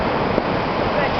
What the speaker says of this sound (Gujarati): આ છે સોમનાથનો દરિયા કિનારો.